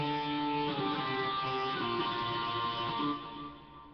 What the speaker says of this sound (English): that's considered a power chord, believe it or not, but it's at a higher octave